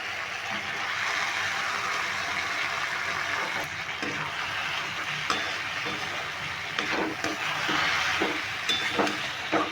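Boiled taro root pieces tumble into sizzling spice masala in a pan and get stirred steadily, a continuous close frying hiss broken by scraping spatula knocks and clinks that grow busier toward the end.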